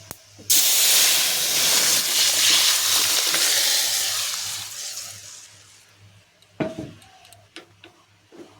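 Lentils are dropped into hot oil already tempered with radhuni and a dried chilli, bursting into a loud, close hissing sizzle that slowly fades, then a few sharp clatters of a spoon on the pan.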